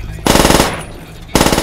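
Automatic fire from a PPSh submachine gun in Call of Duty: World at War, two loud close bursts of rapid rattling shots separated by a short pause.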